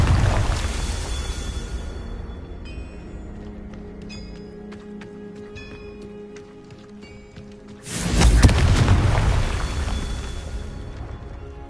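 A Confringo blasting spell bursts in Hogwarts Legacy, a loud rumbling explosion at the start that fades away, followed by quieter magical tinkling, then a second heavy blast that swells and slowly dies down.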